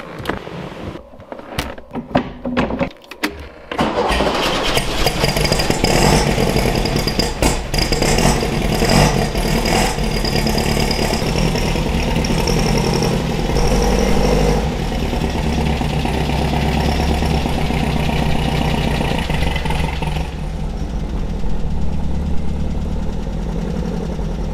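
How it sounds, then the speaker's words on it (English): Beck 550 Spyder replica engine cranking over a few times, catching and settling into a steady, loud clattery idle that runs on with little change. "once the engine's good and hot"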